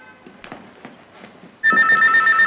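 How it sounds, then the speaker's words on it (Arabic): After soft footsteps, a telephone bursts into a loud, close electronic ring that keeps going steadily, with no voices over it. "تليفون"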